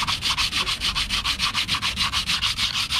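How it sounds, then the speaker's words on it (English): Sandpaper rubs a shiny new blue steel drywall knife in quick, even back-and-forth strokes, about six per second, steady and close, with a dry scratchy hiss and no talking. "I'm gonna sand this down"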